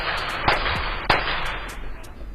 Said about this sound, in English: That rapid gunfire and first and only on KHU 11 News surveillance video shows the moments a dispute between neighbors turned deadly overnight.